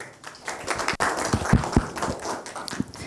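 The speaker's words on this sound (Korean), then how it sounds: "큰 박수로 맞이해 주세요" Audience clapping at a Korean tech conference as a speaker is welcomed: sparse, uneven individual claps and taps at moderate volume, without a full dense applause.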